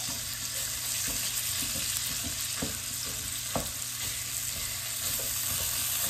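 Egg roll in a bowl filling fries in a hot pan while a utensil breaks it up, a steady loud sizzle with irregular scraping and tapping strokes, close and without voices.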